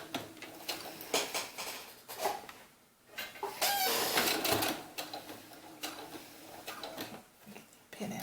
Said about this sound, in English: We're just sewing straight across.